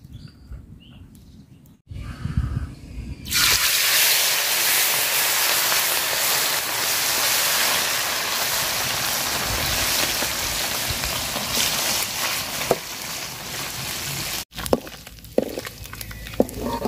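Mola fish frying lightly in oil in a home kitchen, a steady close hiss and sizzle with fine crackle that starts abruptly after a quieter opening and runs evenly to the end.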